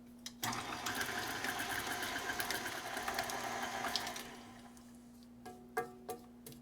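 An electric mixer blends sweet potato pie filling with baking powder, nutmeg and salt, a steady whirring motor hum running for several seconds before cutting out, leaving a few light clunks against the bowl.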